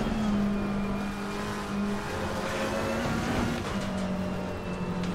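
Race cars run together at Kyalami in Assetto Corsa Competizione, with a steady, loud engine drone and shifting revs from nearby cars throughout, no voices.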